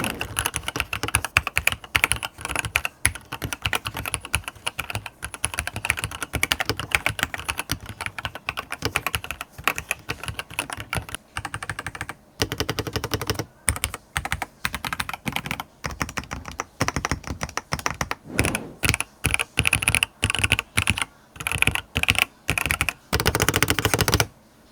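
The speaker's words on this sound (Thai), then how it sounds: "เสียงการพิมพ์โคตรดีไปฟังเสียงการพิมพ์กัน" Typing on a Pulsar XBOARD MS mechanical keyboard with an aluminium plate and three layers of foam. Crisp, rapid keystrokes come in bursts with short pauses and no talking.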